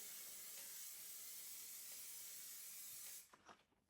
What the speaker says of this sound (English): I love using spray paint